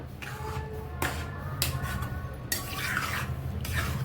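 A spoon stirs thick pav bhaji with boiled beetroot water in a pan, giving soft wet scraping and several sharp clinks against the metal.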